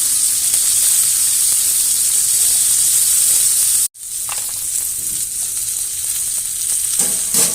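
Rib-eye steak searing in a cast iron pan, a loud steady sizzle with bright spattering hiss that cuts out sharply for a moment, then resumes with scattered pops and crackles.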